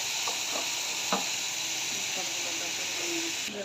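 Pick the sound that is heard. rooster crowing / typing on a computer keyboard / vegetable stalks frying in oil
vegetable stalks frying in oil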